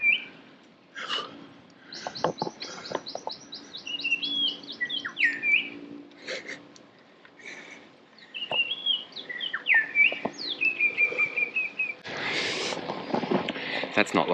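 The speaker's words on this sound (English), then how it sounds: "I want you to hear the bird song." Several birds sing and chirp nearby on a bicycle ride near Sublime Point, Sydney, with bright repeated trills and whistles, while faint rustling and movement continue underneath.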